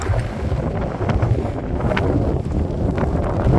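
Strong wind buffets the microphone on a Lake District fell summit near Swirl How, producing loud, continuous roaring rumble with gusty swells throughout.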